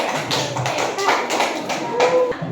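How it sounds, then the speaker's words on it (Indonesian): Pupils in a grade 4 classroom clap their hands for a classmate, a quick run of close, sharp claps lasting a couple of seconds. "Oke, tepuk tangan dulu untuknya."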